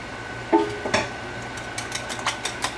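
Steak and potatoes being stirred around in a pan with a utensil, giving a few scraping, clinking strokes at close range over a faint background hum, with no talking.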